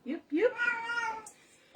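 A single drawn-out meow rises and falls, close and fairly soft, followed by a brief sharp noise.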